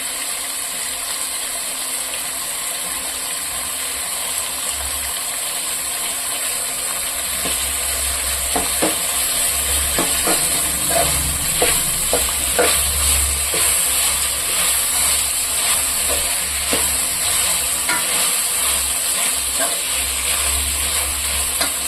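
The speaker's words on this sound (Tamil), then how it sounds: "இப்போ வந்து காய் வதங்கிடுச்சு." Mixed vegetables sauté in a pan for homemade vegetable pulao, a steady broad sizzle running throughout with scattered clicks and scrapes of stirring growing busier midway; close and fairly loud, no talking.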